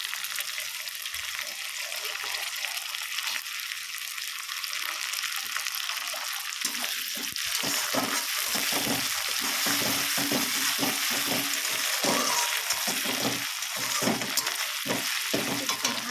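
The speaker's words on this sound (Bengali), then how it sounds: "ভেজে নিচ্ছি ভালো করে। আর একটু টমেটো দিয়ে দিলাম।" Spices and tomato fry in a pan with a continuous crackling sizzle. Irregular stirring scrapes grow busier and louder partway through, with no speech heard.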